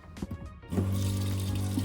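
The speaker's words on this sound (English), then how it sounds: "Let the water flow. Get those pans clean." Water runs from a Seaflo pump-fed tap on a sailboat. After a few faint taps it breaks into a steady, close rush with a constant pump drone underneath.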